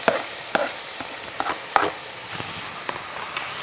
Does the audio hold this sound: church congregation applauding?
no